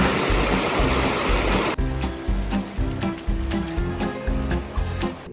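A mountain stream on the Tour du Mont Blanc hike rushes in a continuous broadband wash, then turns into closer, uneven gurgling with sharp splashes and a rhythmic low thumping.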